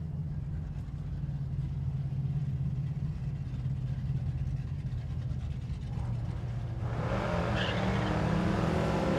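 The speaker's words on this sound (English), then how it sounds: "Pontiac and the Corvette come off the starting line" Pontiac GTO Judge and a Corvette launch off the starting line together at a drag strip, a steady heavy engine rumble building into a louder, brighter roar near the end.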